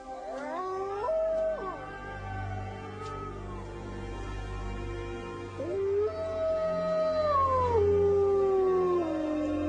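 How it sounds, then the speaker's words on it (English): Wolfdogs howl at night in long, wavering, sliding cries that overlap and rise and fall, fairly close against a quiet background with no talk. "listening to them move about in the dark and howl into the"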